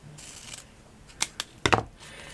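Scissors cut through craft material for a leaf, giving a few short, close snips and crisp clicks, with a quick double cut near the end.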